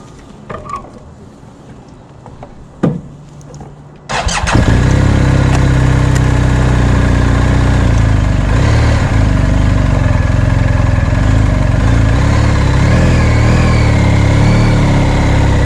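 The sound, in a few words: BMW R 1250 GSA motorcycle engine running during ride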